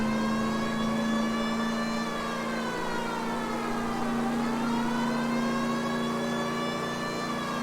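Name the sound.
police car siren like an air raid siren, L.A. Noire video game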